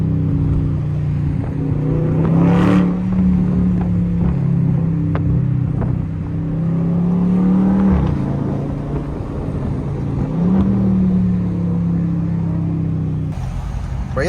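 A tuned Dodge Scat Pack drives through traffic, its loud exhaust droning close and steady with a deep rumble, rising in a few revving pulls between gear changes before settling back to cruising.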